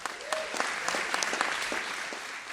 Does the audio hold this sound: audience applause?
yes